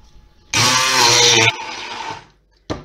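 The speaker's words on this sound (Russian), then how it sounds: "Теперь кусочки тыквы нам нужно измельчить блендером, чтобы получилось пюре." A blender purees pieces of pumpkin in a loud, steady whir lasting about a second, then trails off, followed by one brief final pulse.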